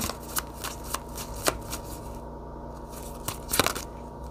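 Tarot cards are shuffled close by, a quick run of papery riffles and soft slaps that repeats in uneven bursts, with no talking over them.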